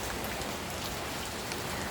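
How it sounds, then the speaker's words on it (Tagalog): Steady, continuous rain pours down outdoors in a rural purok neighborhood, a dense unbroken hiss with no pauses or voices throughout. "Magpabilin ang ulan permi."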